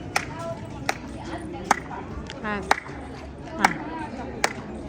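A woman claps her hands toward a wall of the Taj Mahal, producing six crisp, evenly spaced claps with a short reverberant tail, heard over talking and a busy crowd.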